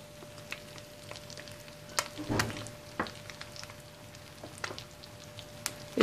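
Spiced egg dish cooking in a pan, a faint, sparse crackle and light sizzle with occasional soft pops, quiet and alone.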